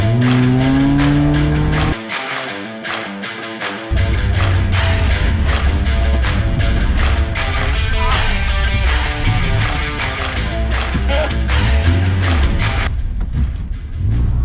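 A Renault Clio 1 RT lapping a cone circuit drones loudly with its engine rising and falling, buried under a heavy, steady rhythmic beat throughout.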